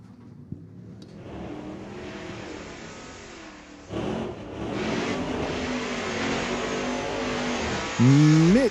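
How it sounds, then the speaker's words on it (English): A 1967 Chevy C10 drag racer at a street-legal drag strip, its engine rumbling steadily nearby, then blipping louder before a sharp rising rev at the very end. "Mitch Wolke driving a 67 Chevy C10"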